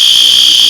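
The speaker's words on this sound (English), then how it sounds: "My roommate just set the fire alarm off with a very misplanned steak" A smoke-triggered fire alarm, set off by a steak being cooked, blares as a loud, steady, piercing high-pitched tone that holds without a break.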